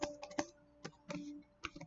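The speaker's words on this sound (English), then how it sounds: "I'm just typing here." A computer keyboard clicks in short, uneven bursts of keystrokes, quiet and close, with brief gaps between taps over a faint steady hum.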